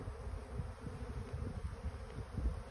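Honeybee drones buzzing steadily around an open beehive frame, a low continuous insect hum with no talk.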